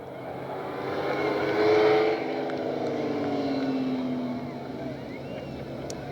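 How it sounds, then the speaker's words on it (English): A loud Studebaker race car engine at a Targa Newfoundland rally drones and swells as it passes, peaking briefly then holding a steady roar that slowly fades. "That Studebaker is loud, isn't it?"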